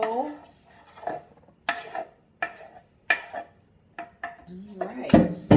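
Chopped spinach salad vegetables are tipped from a cutting board into a bowl in a series of short clattering, rustling scrapes of knife and board against the dish, with brief talking between them.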